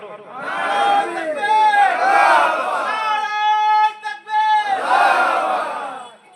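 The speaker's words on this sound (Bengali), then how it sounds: "তাকবীর মারো" A large crowd at a Bengali Islamic religious gathering chants the takbir in unison, three loud, sustained group shouts of voices rising together, the second trailing into a thinner held tone before the final swell.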